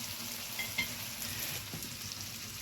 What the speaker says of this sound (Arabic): سامعين صوت الطشه جميله ازاي؟